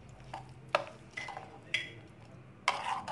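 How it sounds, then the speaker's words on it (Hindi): A spoon stirring a ketchup, vinegar and lemon sauce in a bowl, with a few light clinks and scrapes spaced out over soft mixing sounds. "अब सिरका और लेमन ऐड करके अच्छी तरह मिक्स कर लेंगे।"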